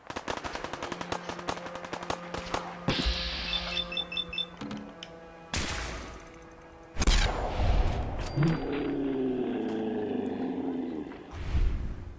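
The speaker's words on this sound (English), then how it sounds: "I hear gunfire" Bursts of rapid gunfire and sharp synthetic shots in Fallout 4, with a loud roaring blast and mechanical tones following.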